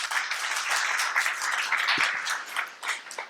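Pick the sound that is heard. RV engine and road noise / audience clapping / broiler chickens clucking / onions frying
audience clapping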